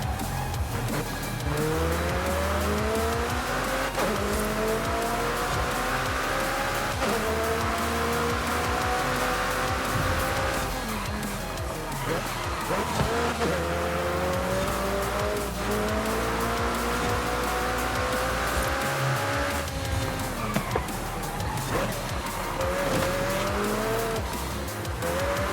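Lamborghini Murcielago in the racing game Forza Horizon 5, its engine revving loud and continuous through repeated upshifts, with turbo blow-off hisses and tire squeals between gear changes, and no talk.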